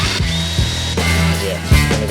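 An electric drill, hammer action off, whirs close up in short bursts while working on a Land Rover Defender hub, the motor pitch dipping and rising as it bites in, stopping and restarting twice.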